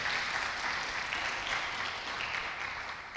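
A church congregation applauding at a service, dense steady clapping from many people that fills the whole stretch, with a slight easing toward the end.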